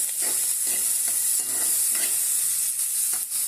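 Loud, steady sizzling of onions and chillies frying in hot oil, with rhythmic scraping of a spoon stirring the pan every half second or so.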